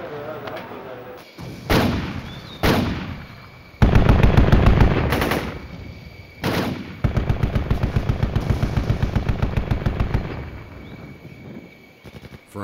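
Gunfire during an assault in the 1983 occupation of Grenada, with loud, rapid machine-gun bursts and heavy shots in long repeated volleys, close and booming, with voices faintly in the mix.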